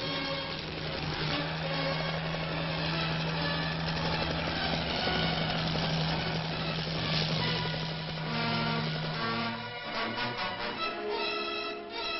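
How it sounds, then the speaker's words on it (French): An Algerian army helicopter's rotor and engine drone steadily throughout during earthquake relief in the Chelif region, loud and continuous, with a constant low hum and slight shifts as it passes. "D'autres hélicoptères envoyés par l'armée américaine relayaient les hélicoptères algériens."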